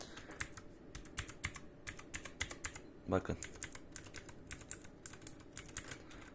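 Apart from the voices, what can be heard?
typing on Redragon K630 blue switch mechanical keyboard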